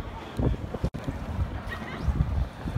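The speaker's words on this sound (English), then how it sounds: "ooh, super windy. Let me see if I can find a place a little bit away from the wind." Strong gusts of wind buffet the microphone beside stone columns in New York with a deep, rumbling roar that swells and drops, briefly cutting out, steady blustery noise throughout.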